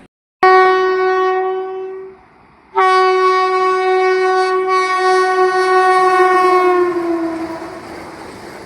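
An express train arriving at Bodwad railway station sounds a long, loud, steady horn blast, breaks off briefly, then holds a second long blast that slowly fades, with no talking.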